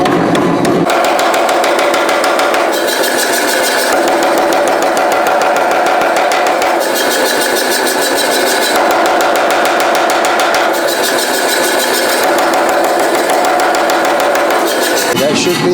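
An Anyang power hammer forges railroad-spike steel for bolt jaw tongs, breaking a corner under low heat: a dense, steady run of rapid mechanical blows with loud metallic ringing, continuous and close throughout.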